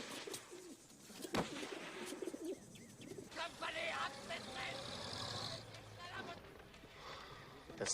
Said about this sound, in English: This is a good little English carrier pigeon.